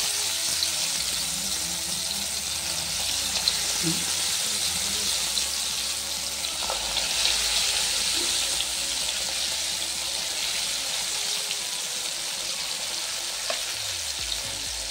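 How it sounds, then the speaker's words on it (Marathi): Kothimbir vadi fries in hot oil over a lowered gas flame, giving a steady, even hiss and crackle that carries on throughout, with no talking. "गॅसची फ्लेम मी आता कमी करत आहे आणि आपल्याला ही वडी आता छान तेलात तळून घ्यायची आहे"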